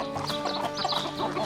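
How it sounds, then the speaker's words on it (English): Backyard chickens cluck softly in quick, irregular bursts while pecking at beet leaves in the chicken yard, fairly close and alone without talk. "I feed them to the chickens. They eat it like candy"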